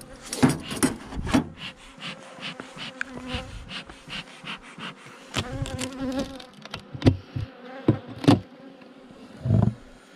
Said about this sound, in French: Il restait pas mal d'abeilles là-dedans.